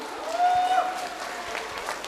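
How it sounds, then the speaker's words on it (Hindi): A school audience at an Independence Day function claps together, giving a steady wash of applause that lasts the whole moment at moderate loudness, with no speech over it. "एक बार फिर से जोरदार तालियां।"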